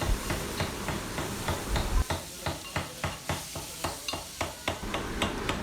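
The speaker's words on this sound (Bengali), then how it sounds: "আমাদের ইলিশ এখন ভাজি চলছে" Hilsa fish fry in hot oil beside the Padma river under a steady, bright sizzle, with regular sharp knocks or stirring taps cutting through the frying hiss.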